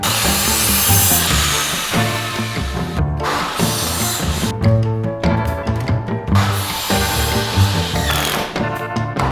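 A saw cuts through the wooden end pieces of a door frame in continuous rasping strokes, pausing briefly twice before resuming, loud and close by.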